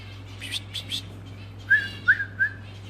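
Fifteen-day-old red-vented bulbul chicks give a few short, high whistled chirps, some faint and some sharper, spaced irregularly over a quiet background hum with no talking.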